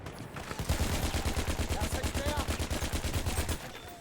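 Rapid automatic gunfire from the Battlefield 1 video game, a sustained burst of evenly spaced loud shots lasting several seconds with faint background game noise.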